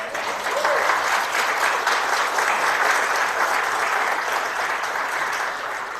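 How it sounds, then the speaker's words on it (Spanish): A church congregation at a Sunday service breaks into sustained applause, a dense, even wash of clapping that holds steady for several seconds and eases slightly toward the end. "Eso se merece un aplauso del Señor"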